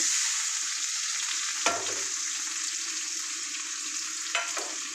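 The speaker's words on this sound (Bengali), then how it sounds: "এবার আমি এই যে পেঁয়াজগুলোকে দিয়ে দিলাম আর ঘি লঙ্কা তিনখানা দিয়ে দিলাম" Onions, dried chillies and black cumin sizzle steadily in hot ghee in a pan while cooking masoor dal. The frying is close and constant, broken by two brief clattering stirs.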